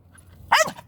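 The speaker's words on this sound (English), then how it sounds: "Look, a little doggy." A corgi gives a single short, sharp bark close by, with nothing else heard.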